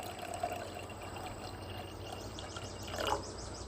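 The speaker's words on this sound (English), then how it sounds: "So we'll pour out 1 cup of water here." One cup of water poured out for a camping stove boiling test makes a faint, steady trickling pour that rises into a brief bubbling gurgle near the end, quiet and close.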